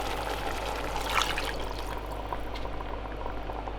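A cup of water pours into a cooking pot with tomato passata for chicken afritada, making a steady splashing rush for a few seconds with no talk.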